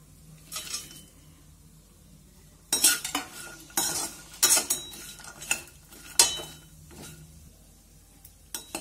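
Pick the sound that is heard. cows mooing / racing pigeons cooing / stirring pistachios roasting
stirring pistachios roasting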